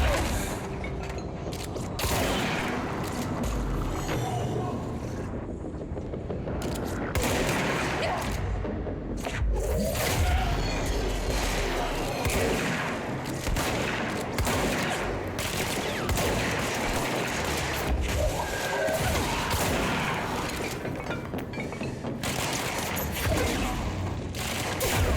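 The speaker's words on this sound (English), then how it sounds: "this gun is pretty strong" Sustained gunfire from a powerful weapon in the game Control: dense, rapid bursts of shots with mechanical clatter run almost without pause, loud and close, mixed with game action.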